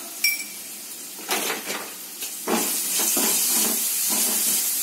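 A spoon scrapes and clinks against a pan while mango rice is stirred and mixed, a series of close scraping strokes over a steady background hiss.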